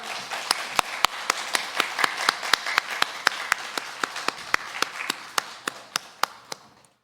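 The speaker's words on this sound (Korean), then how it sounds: "우리도 힘찬 박수로 영광 돌리겠습니다." A church congregation at a Sunday service claps in unison after a choir hymn, sharp evenly spaced beats at a brisk rhythm over a soft wash of scattered clapping, slowing and fading toward the end.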